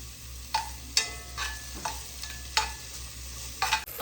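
Thinly sliced medium red onion sizzles in a hot pan as a utensil stirs it, with a low steady fry and several distinct scraping knocks spaced about half a second to a second apart, close up.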